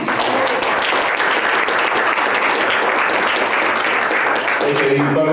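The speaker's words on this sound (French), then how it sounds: "On va encore des applaudissements" Sustained audience applause at a French health debate event, dense steady clapping from a large crowd filling the whole stretch, fading toward the end as a voice begins over it.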